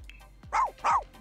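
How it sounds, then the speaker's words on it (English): A dog gives two quick, close barks in a row, followed by the start of a third, after a brief high yip. "Bark, bark."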